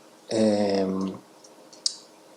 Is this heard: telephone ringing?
no